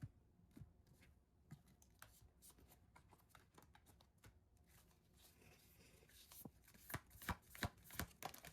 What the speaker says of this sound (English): Oh, cut the deck.